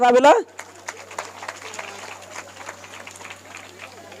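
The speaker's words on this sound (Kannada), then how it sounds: "ಚಪ್ಪಾಳೆ ಹೊಡ್ರಿ ಕೈ" An audience at an outdoor religious discourse in a village claps in a scattered patter, moderately loud but thin, after a brief spoken voice at the start.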